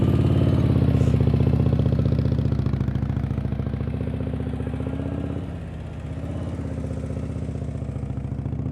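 A motorcycle engine idles and putters steadily at low revs during slow-speed riding practice, close and continuous with a slight dip in level partway through.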